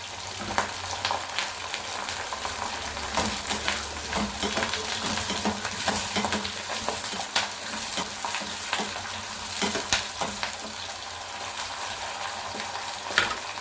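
Garlic and curry leaves sauté in a pan for garlic kuzhambu, a steady close sizzle with repeated stirring scrapes and a few light metallic clinks throughout, no talking.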